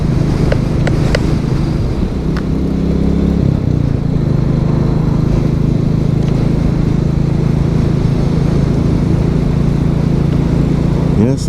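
A Royal Enfield Classic 350 motorcycle rides along, its steady low engine drone continuous throughout, with a gear shift early on and wind buffeting the microphone.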